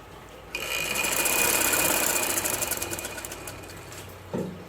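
A sewing machine stitches a peplum frock in one steady run lasting several seconds, a close whirring rattle that starts abruptly and then stops with a soft thump, heard alone.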